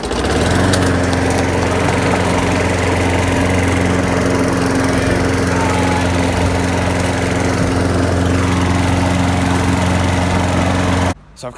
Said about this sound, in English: So I've kind of decided that lawn mowing is a lot like manly vacuuming.